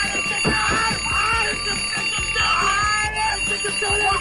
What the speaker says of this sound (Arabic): بظبط المنبه الساعه 6 والساعه 6 ونص والساعه 7 والساعه 7 وربع